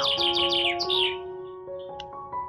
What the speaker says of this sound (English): I hear the birds singing in the park.